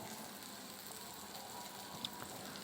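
Pasta masala frying in a pan, a soft, steady sizzle heard close but faint, with a small crackle near the end and no voices.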